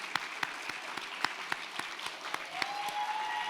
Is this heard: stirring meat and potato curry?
no